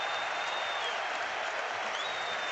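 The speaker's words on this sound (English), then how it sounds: "A magnificent round of applause" A stadium crowd at Hampden applauds Celtic's double treble win, a dense, steady roar of clapping with a thin whistle running above it, continuous and loud throughout with no breaks.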